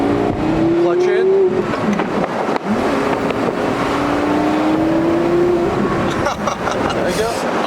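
A Porsche Carrera GT's engine pulls through rising revs, drops off during a gearshift on the manual box, then climbs steadily again, loud and close inside the cabin, with people talking over it throughout.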